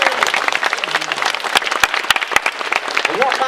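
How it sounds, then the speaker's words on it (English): Audience at an annual general meeting for Thurrock Lifestyle Solutions breaks into steady applause, sharp claps scattered over a dense crowd bed with some voices mixed in, filling the room at moderate loudness. "So I think that deserves a round of applause"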